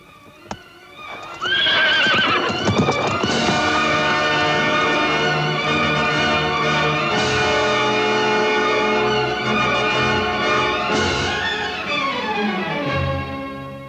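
A horse whinnies loudly and close, a long shrill neigh that rises and falls over several seconds, with hoof clip-clops at the start, set in a fairy-tale film scene.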